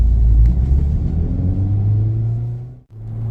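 A Honda Civic Type R FL5 hot hatch in sport mode cruises on a highway, its steady low engine and road rumble holding constant with a rising drone, briefly dipping near the end before resuming.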